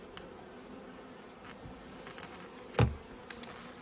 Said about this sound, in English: I'm seeing bees coming into the hive, bringing in the bright yellow stuff